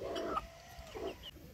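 Backyard chickens, including a Brahma hen and a white bantam rooster, give a few soft, faint clucks close by, with no talking over them.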